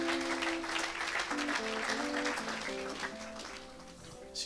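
A church congregation applauds in a soft, steady patter while sustained keyboard or organ notes step through a melody underneath.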